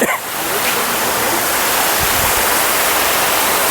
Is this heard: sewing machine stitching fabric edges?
no